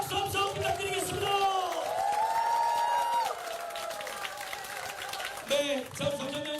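Supporters at a Korean political talk concert in Chungbuk break into loud applause and cheering, whoops rising over steady clapping while an announcer speaks over the crowd, the noise easing in the last seconds.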